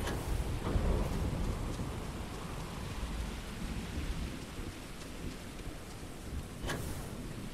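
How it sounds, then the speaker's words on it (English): Rain and thunder in a video game set in a place where it never stops raining: steady, dense rainfall throughout with low rolling thunder and a sharp crack near the end, no voices. "It never stops raining here, evidently."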